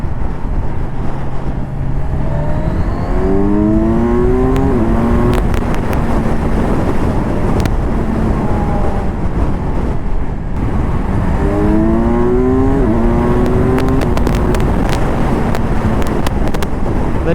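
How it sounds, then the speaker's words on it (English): A Kawasaki Ninja 1000SX fitted with an up-and-down quick shifter accelerates in two loud, close runs, its engine pitch stepping up through quick gear changes with wind buffeting throughout. "this motorcycle comes with up and down quick shifter"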